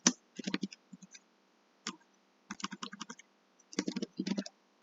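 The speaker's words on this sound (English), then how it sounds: "So I'm just going to type in a little caption or a little tweet." Fingers type a short caption on a computer keyboard, quick clusters of close, crisp key clicks separated by brief pauses.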